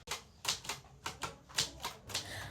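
Old mechanical typewriter typing out a proclamation text: about eight distinct sharp key strikes in an uneven rhythm, close and clear with no voices.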